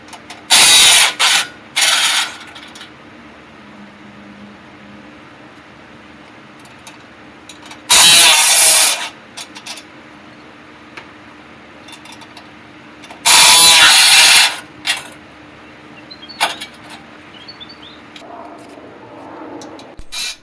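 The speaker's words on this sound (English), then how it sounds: "18mm wrench and 18mm socket on the M18 impact to remove the lower cross member." An M18 impact wrench with an 18mm socket loosens the lower cross member bolts on a 2020 Ford F-150 during a lift kit install, firing in three loud, separate bursts against a quieter workshop background.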